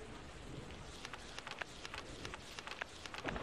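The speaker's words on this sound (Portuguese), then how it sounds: "O som do jogo é o barulho da chuva," Steady rain in the Castlevania 64 video game patters faintly as a continuous hiss with scattered droplet ticks, heard alone.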